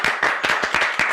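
Audience clapping and applause fills a room, a steady run of close, crisp handclaps with no voices over it.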